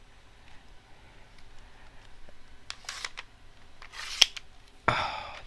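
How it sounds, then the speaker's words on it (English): Several crisp snips of scissors cut through paper, spaced irregularly, with a louder, sharper cut near the end over quiet background hiss. "I might have to do that one with scissors"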